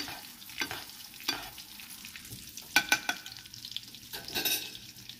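Salmon fillet searing in a hot pan, a steady close sizzle with scattered clinks and scrapes of a utensil against the pan, with no voices.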